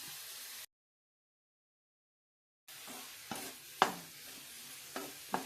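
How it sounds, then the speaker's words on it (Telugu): Amaranth leaves being stirred as they fry in a pan: a soft sizzle, a gap of silence, then scraping stirs with sharp clattering knocks of the spoon against the pan. "ఇలా తిప్పుతూ ఉండాలండి రెడీ అవుతుంది"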